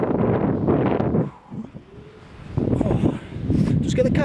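Wind gusting across the summit of The Calf in the Howgill Fells at 676 m, buffeting the microphone in rough bursts between stretches of someone talking.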